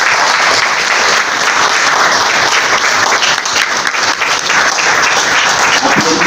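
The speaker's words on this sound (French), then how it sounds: "Tous vos applaudissements," Audience at a closing ceremony of a government workshop breaks into sustained, dense applause, loud and even for several seconds with crowd noise mixed in.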